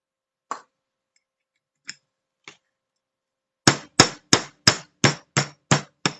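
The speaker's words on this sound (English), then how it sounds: "now just punch my holes here" A metal punch is struck with a hammer to make holes in handmade dangle earrings: three sparse light taps, a pause, then eight sharp, evenly spaced blows, close and loud in a quiet room.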